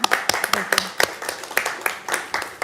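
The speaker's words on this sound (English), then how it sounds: "let's give them a round of applause" Scattered applause at a city council meeting, distinct claps with irregular rhythm from a modest group, fairly close, with some voices murmuring underneath.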